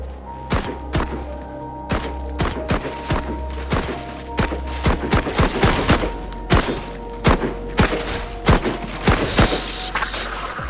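Gunshots in the Memories of Mars video game, a steady string of sharp, punchy shots at irregular short intervals over a constant low droning hum.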